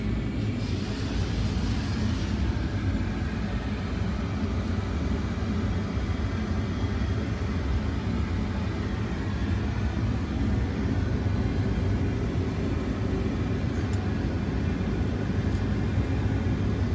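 Concorde flight simulator at Brooklands Museum during a takeoff roll with reheat engaged, giving a steady, loud broadband roar with deep low rumble that holds unbroken throughout.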